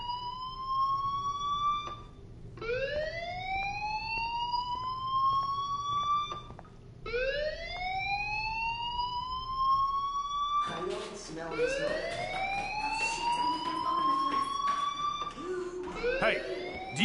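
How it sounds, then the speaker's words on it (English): School fire alarm in the video game Life is Strange, loud rising electronic whoops repeating in long sweeps with short gaps, growing harsher and busier toward the end. "Hey, do you hear that fire alarm? That means you should be outside."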